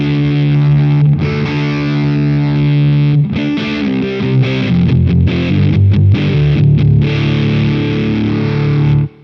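Electric guitar played through a Way Huge Swollen Pickle Jumbo Fuzz MKIII pedal, thick saturated fuzz chords ringing loud and sustained, with a brief break and some rhythmic choppy strums before a final held chord cuts off.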